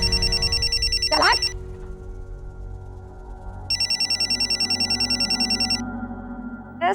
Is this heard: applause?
no